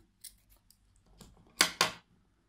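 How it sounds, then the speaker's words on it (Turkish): Scissors snip excess yarn from a handmade pompom, two sharp close cuts near the end after a few faint light handling clicks. "Diğer tarafta da yine şuradaki fazla ipimi hemen kesiyorum."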